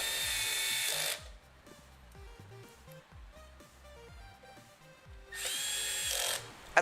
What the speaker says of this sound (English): you can use a power screwdriver and make sure to set the clutch to the lowest setting